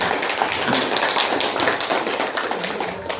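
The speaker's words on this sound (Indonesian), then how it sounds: "Ya, tepuk tangan." A classroom group of students claps together during a lesson, giving a brisk, fairly loud burst of hand claps that is continuous and close.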